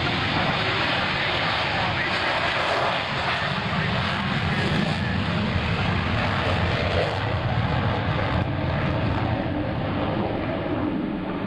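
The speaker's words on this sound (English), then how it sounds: "Commander Bartlett calls for the deselection of Afterburner by the 4 Diamond pilots" US Navy Blue Angels jets fly at an airshow, a continuous loud roar of engines running the whole time with a steady, broad rush and no break.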